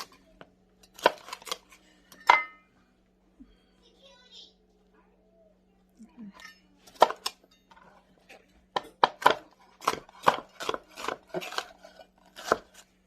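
A knife chops peppers on a cutting board for a frittata, with bursts of sharp close cuts and a fast run of rhythmic chops near the end, separated by pauses and soft kitchen clatter.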